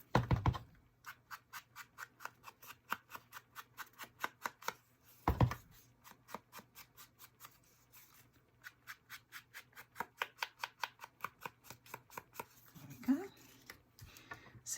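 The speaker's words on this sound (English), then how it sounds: "I'm just going to go and edge this card with some brown" A scrapbook card being edged with brown ink, heard as a long rhythmic series of quick, short rubbing strokes at a close distance, broken by a couple of louder knocks and handling sounds.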